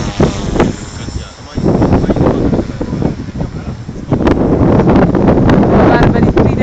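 Strong gusty wind buffets the microphone outdoors on a grassy field where a T-Rex 450 Sport RC helicopter flies, a loud rumbling roar that surges and dips, swelling harder in the second half.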